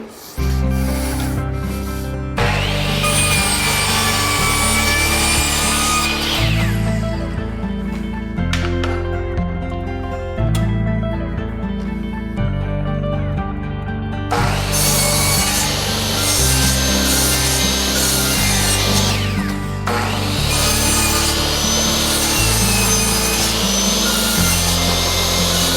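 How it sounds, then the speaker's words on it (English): Wooden window trim casing pieces are cut by hand with a saw, loud close rasping strokes in two long bursts separated by quieter pauses with small knocks and handling noises. "We'll go cut all 4 pieces of trim and come back and install it."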